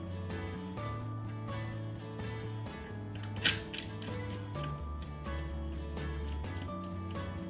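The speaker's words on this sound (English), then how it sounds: "Reinstall the manifold using the two remaining screws." Screws go back into the manifold of a SilentAir RP33 1/3 HP piston compressor with small metallic clicks and turning sounds against a steady mechanical background, with one sharper clack partway through.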